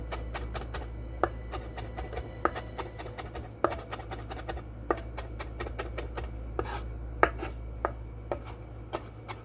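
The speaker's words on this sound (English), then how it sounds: "I'm going to finely mince this really good." A knife finely mincing ingredients on a cutting board for a Moroccan red snapper dish, a steady run of close, sharp chops with a few harder knocks, over a low background hum.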